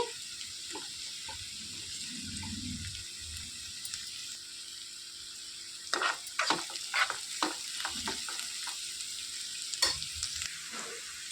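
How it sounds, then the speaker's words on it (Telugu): Sliced onions and green chilies frying in a pan at a quiet level: a soft continuous sizzle, then clustered scrapes and clinks of a spoon stirring through the second half. "ఉల్లిపాయలు బాగా వేయించుకోవాలండి ఇందులోనే కట్ చేసి పెట్టుకున్న పచ్చిమిర్చి వేసేసుకోవాలి"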